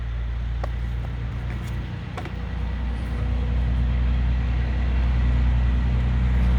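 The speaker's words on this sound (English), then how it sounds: "All the big trucks are out today." Big trucks rumble past on a nearby road, a steady low engine drone that swells louder toward the end, with no talking.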